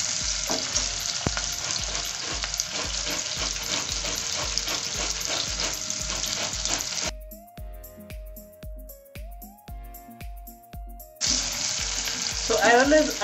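Onions frying in butter in a pan, a steady loud sizzle with regular stirring scrapes, briefly quieter in the middle before the sizzle surges back, no talking.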